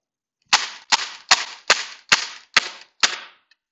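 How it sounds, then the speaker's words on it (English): An Umarex XBG CO2 BB pistol fires seven crisp, snappy shots in steady rapid succession about every half second, each a sharp pop with a short hiss of decay, close and clear with no voices. "And I'll go for a quick rapid fire."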